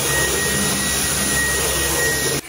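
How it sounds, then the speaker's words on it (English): A household vacuum cleaner runs at five times normal speed while cleaning up after a homemade bookshelf build, giving a loud, steady whir for over two seconds before cutting off abruptly. "There's something really quite ASMR about watching someone vacuum in five times the speed."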